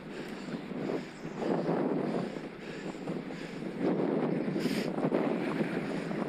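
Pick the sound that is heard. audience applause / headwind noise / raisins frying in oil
headwind noise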